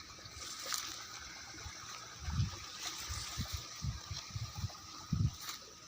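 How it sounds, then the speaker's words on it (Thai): Strong drainage outflow of water pours into a flooded rice paddy, giving a steady rushing wash with deep gurgling surges that swell and fade. No one speaks. "เสียงน้ำไหลแรงมาก"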